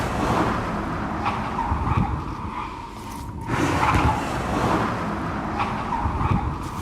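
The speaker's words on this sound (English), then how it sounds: "The video captured a squealing sound, likely the emergency brake being engaged." A car engine roars continuously with a harsh, grinding squeal, likely from the emergency brake being engaged, layered over it, swelling louder midway through, close and fairly loud.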